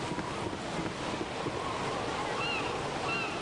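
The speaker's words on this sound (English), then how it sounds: "Follow the water here, the canal." Canal water in the Baldur's Gate video game, a steady wash of lapping, surf-like water with a constant low rush and a faint high chirp near the end.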